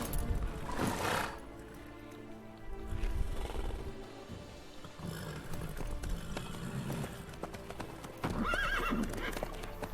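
Horse hooves clip-clop steadily in The Witcher 3 game, with a loud neigh and whinny near the start and again toward the end, layered over ambient game sounds.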